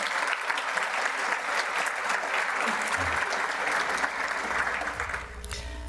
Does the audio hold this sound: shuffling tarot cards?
no